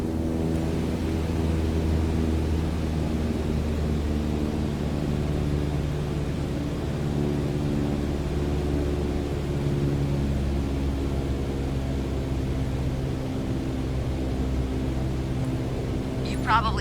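A light aircraft's piston engine with the throttle eased back to 1,800 RPM during level flight holds a steady, loud, continuous drone with a low harmonic hum that barely varies throughout.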